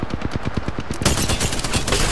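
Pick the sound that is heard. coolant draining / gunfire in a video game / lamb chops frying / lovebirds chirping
gunfire in a video game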